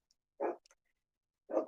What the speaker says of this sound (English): Oh no, they're barking. I hear them now.